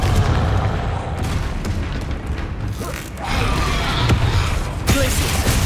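Repeated booming blasts from the Confringo fire spell in the Hogwarts Legacy video game, loud and close, with several heavy impacts and a low rumbling bed throughout the battle.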